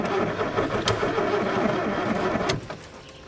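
A 1.4 CVH engine in a Ford Escort cranks on a troubled cold start, a rough, busy churning of starter and engine under faint background voices, with a couple of sharp clicks before it drops off near the end.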